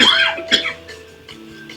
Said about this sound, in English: My apologies again for coughing